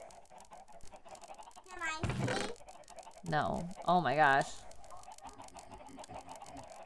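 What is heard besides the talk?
chickens clucking in a video game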